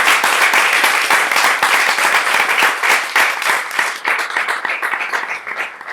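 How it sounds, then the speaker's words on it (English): Audience at a lecture-demonstration of Hindustani classical music gives a sustained round of applause, dense overlapping clapping that holds steady before thinning out toward the end. "So please, one round of applause for them."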